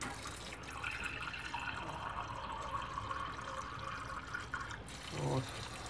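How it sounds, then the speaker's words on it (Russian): Clean drinking water poured into a glass for dissolving a vitamin tablet, a soft continuous trickle running for several seconds and then a brief louder splash near the end. "Берем чистую воду питьевую"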